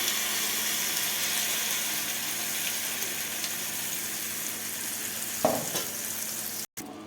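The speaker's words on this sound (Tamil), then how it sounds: "அரைச்சி வச்ச சட்னியை நம்ம ஊற்றிக்கலாம்." Ground garlic chutney sizzles steadily in a hot pan, a constant close frying hiss with a brief clatter near the end and no talking.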